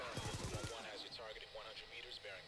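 An-94 rifle fire in a first-person shooter video game: a short rapid burst of shots, then a voice talks over faint game sounds.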